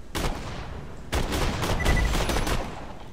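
Rapid bursts of gunfire from a fast-firing gun in Borderlands 2, two loud clusters of shots separated by a brief pause, with game effects behind them and no talking.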